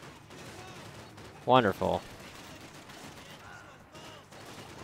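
Bursts of enemy gunfire in the shooter game Max Payne 3, a quick cluster of loud shots near the middle, with someone talking over the action.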